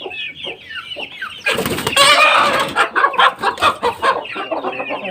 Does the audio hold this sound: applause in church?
no